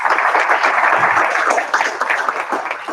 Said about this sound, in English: So how about a round of applause for her?